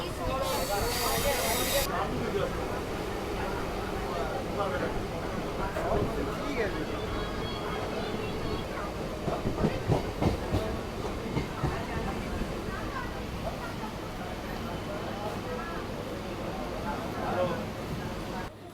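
The Kharagpur to Digha local train rolls along a single line in a steady, loud rumble and hiss heard from inside, with a brief sharp burst near the start and voices talking underneath.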